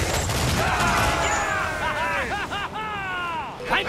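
A ship's cannons fire a broadside in the pirate naval game Assassin's Creed IV: Black Flag, with dense booming blasts under loud shouting crew voices throughout.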